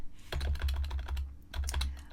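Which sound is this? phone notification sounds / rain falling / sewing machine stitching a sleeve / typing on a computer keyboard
typing on a computer keyboard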